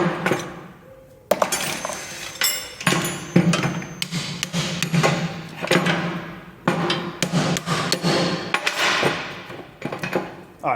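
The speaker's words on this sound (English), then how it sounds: "I'm going to have to hit these with a hammer." Rusty disc brake pads being driven out with a hammer, a run of loud, sharp metallic strikes in irregular bursts with ringing clinks between blows, close up and with no talking.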